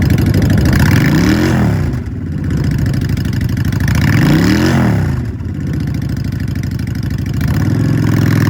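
A used 2015 Honda Shadow Phantom 750 V-twin cruiser engine revs up twice from a lumpy idle, each rise and fall clear and close, then settles back to a steady rumbling idle with no talk.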